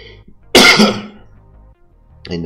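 A single harsh cough bursts out close to the microphone, then fades, with quiet room tone around it and a person starting to speak right after.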